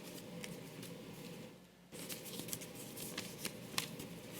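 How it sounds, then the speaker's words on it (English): Folded paper torn apart by hand makes a soft, steady rustling and ripping, close but quiet, with a short pause partway and a few crisp snaps at the end. "If you fold your paper in half just a few times, you can kind of just tear it apart."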